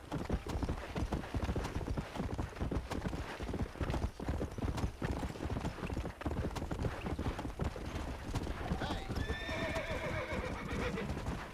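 Horse hooves clip-clop at a steady trot in Red Dead Redemption, loud and close throughout, with a horse's whinny rising near the end.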